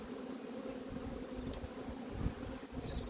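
Honey bees drone steadily around a frame lifted from a Takou hive, a dense close buzz with brief sharper passes from single insects near the microphone.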